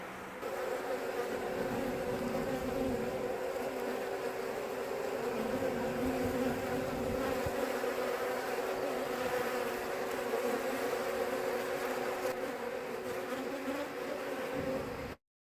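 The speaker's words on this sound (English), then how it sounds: "the bees were clumping to get in, and so if they're clumping to get in, give them more room" Dense, steady buzzing of many honey bees crowding at a hive entrance, a close, continuous drone that holds evenly for about fifteen seconds with no talking.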